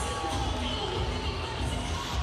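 A packed hockey arena crowd at an OHL game at General Motors Centre roars and cheers continuously, a loud dense wash of voices with a commentator talking over it.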